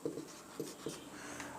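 Pen scratching on paper as maths is written out during a Class 12 NCERT lesson on relations and functions, a few short strokes close and fairly quiet.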